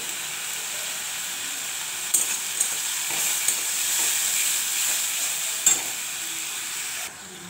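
Small potatoes frying with salt and turmeric sizzle in a steady, close hiss, broken by a few sharp clacks of a spoon stirring and scraping the pan.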